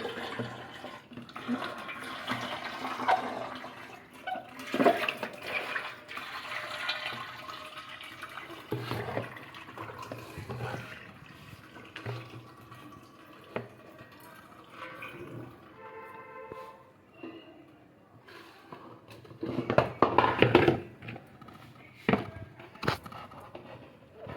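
Tap water running and splashing while washing up in a kitchen after dough is placed in a bowl, with steady flow, intermittent clatter and louder splashes near the end.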